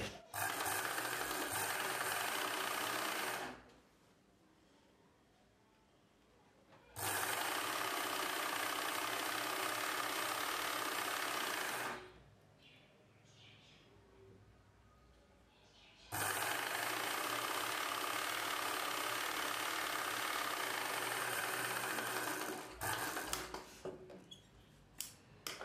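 A sewing machine hums steadily while a folded edge is stitched on a collar-neck blouse. Long continuous runs are broken by two quiet pauses, close and fairly loud.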